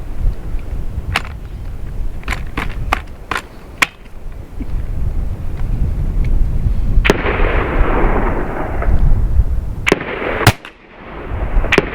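Two high-powered .50 caliber air rifles, an M50 and a Dragon Claw, fired outdoors in single shots at a 100-yard range. The sharp cracks come one at a time at uneven intervals, some loud and close, with no talking.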